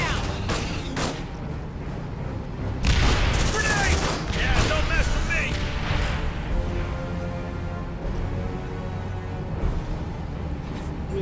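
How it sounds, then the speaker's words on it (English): Rapid gunfire bursts and booming blasts from a squad fighting a horde in the video game Aliens: Dark Descent, loud and sustained, with a dense volley swelling near the middle while voices talk over it. "Lay down suppressive fire immediately, guys"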